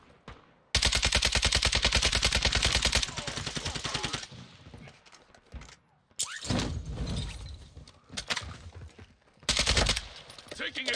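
Video game gunfire from a squad match rattles in loud automatic bursts, with long sustained volleys and shorter strings of shots, close and intense, while players talk over the firefight.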